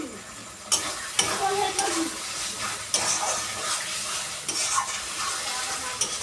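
Tomato, salt and spices sizzle and fry in a pan while a utensil stirs and scrapes, with steady close hiss broken by repeated sharp clanks of the spoon against the pan.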